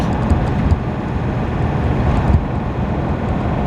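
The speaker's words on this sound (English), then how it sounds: "really the only noise you can hear is a little bit of the wind." Steady broadband rumble of wind and road noise inside a 1996 Ford F-250 truck on Nitto Ridge Grappler tires at highway speed, constant and fairly loud with no voices.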